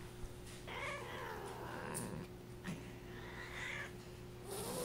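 A female cat in heat yowling indoors, drawn-out wavering meows repeated several times close up over a steady low background hum.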